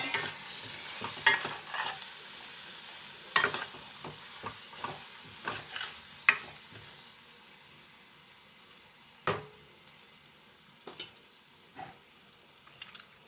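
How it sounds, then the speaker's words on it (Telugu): Egg curry cooking in a pan as tamarind juice goes in, with soft continuous sizzling broken by repeated sharp scraping and stirring clacks of a spoon against the pan. "ఇలా కొంచెం ఆగాక మనం చింతపండు రసం వేసుకుందాము"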